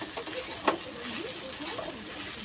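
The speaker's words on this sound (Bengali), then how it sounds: "একাতে নাড়াচাড়া করছি, কড়াটা নড়ছে।" Sweet pulao, rice fried until loose and then given salt and plenty of sugar, is stirred in a wok that shifts on the stove. A soft, steady sizzle and scraping run throughout, with one sharper clink partway through.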